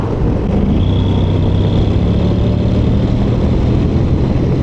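Honda NC 750 motorcycle accelerating hard to overtake on a rural backroad in Fife, a steady loud engine drone with heavy wind rumble and a rising whine, no voices.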